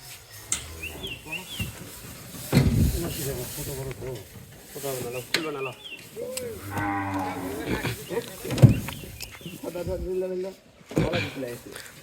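A cow and calf moo several times while being handled with rope, amid lively nearby chatter and shouting, with rustling and knocking in the background.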